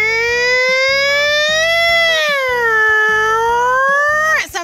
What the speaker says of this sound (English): here's where the siren is so people know that a fire truck is on the way